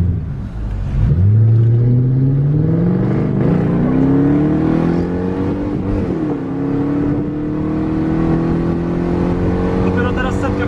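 Mercedes V8 engine in a camper van accelerating on the road in Iceland, a deep rumble rising in pitch through gear changes, steady and close from inside the cab.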